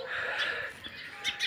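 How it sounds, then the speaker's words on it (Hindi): Birds chirping in a village in the early morning, quick bright tweets and squawks close by over a soft outdoor hush, brief and continuous. "चिड़ियों का चहचहाना"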